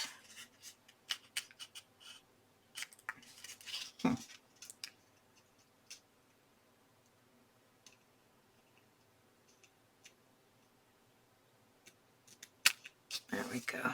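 Scissors snip paper for a Christmas tree two-page scrapbook layout, producing crisp, close cuts in irregular short runs with pauses of quiet handling between them.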